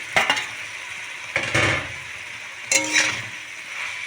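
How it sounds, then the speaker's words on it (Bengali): Fried okra tipped into spiced bhindi masala in a pan, three short bursts of clinking and scraping as the okra hits and is stirred, with a soft sizzle between them, close and fairly loud, no voices. "এখন আমি দিয়ে দেবো ভেজে রাখা ঢ্যাঁড়স"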